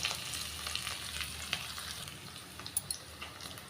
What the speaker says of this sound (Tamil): நல்லா வதக்கிக்கலாங்க.